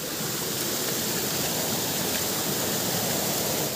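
A spring-fed stream rushes steadily and continuously, a dense broadband flow close by with no pauses or other sounds.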